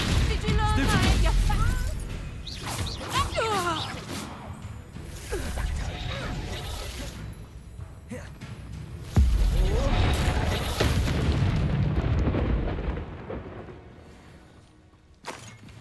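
Spell blasts and explosions from the Hogwarts Legacy video game: a dense run of booming bursts and whooshing impacts, loudest early on and with a fresh heavy blast near the middle, with game voices calling out over the clashes.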